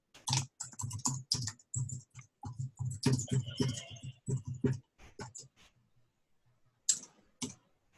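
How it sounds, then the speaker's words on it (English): Close, quick clicking of keys while a message is typed on a computer keyboard, rapid bursts of keystrokes with a short pause before a few final taps. "I'm just going to type a message in here to get you started"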